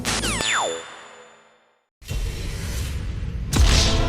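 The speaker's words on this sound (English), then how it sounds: "I'm about to hit you with a whole mess of video game death sounds" Video game death sound effects in sequence: a bright descending electronic sweep fading into silence, then a loud, crunchy noise burst ending in a heavier blast.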